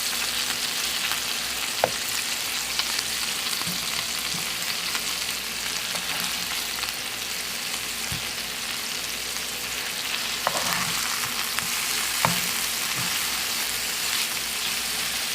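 Meatballs searing in a hot frying pan give off a steady, crackling sizzle with occasional sharper pops and scrapes as they are turned, sounding close and continuous for the whole stretch.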